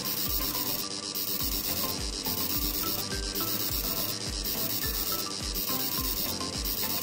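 A fuel injector rated 125 cc is pulsed on a MOTOSCAN mechanical test bench, giving a steady, evenly repeating rhythm of spray hiss and clicking at roughly one-second intervals, close and continuous with no talk.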